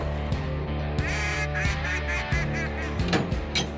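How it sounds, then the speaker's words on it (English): Ducks quack in a busy, overlapping chorus with honking calls mixed in, fairly close, over a low hum of other sound. "And a few more decoys to bring in the ducks."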